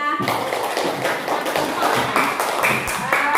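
Schoolchildren in a classroom clapping together in a quick, rhythmic pattern of short bursts, with voices mixed in over the claps.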